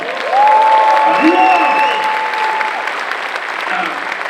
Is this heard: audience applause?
yes